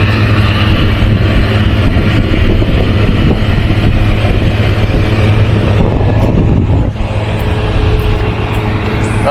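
A truck rumbles along with a steady, loud low engine drone and road noise that stays continuous throughout, with a slight drop in level near the end.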